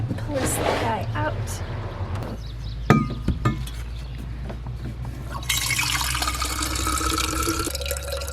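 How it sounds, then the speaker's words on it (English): Water pouring from a container into a water bottle outdoors on a rainy day at a van, a steady liquid gush with a few clinks, then a brighter, fuller stream near the end. "So I'll show you how I fill my water bottle up."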